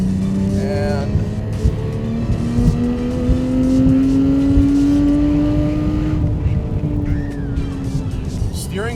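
Porsche 997 GT3 on Pilot Sport Cup tires accelerating hard with traction control in sport, the engine note rising steadily and loud through the gears, with someone talking over it.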